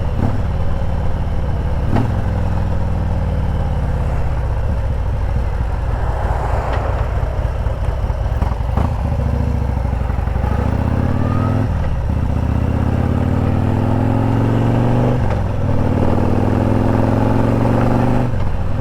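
A Harley motorcycle rides along on a beautiful early morning, its engine droning loud and steady throughout with shifting pitch and brief rises as the bike changes speed, plus wind rush over the microphone.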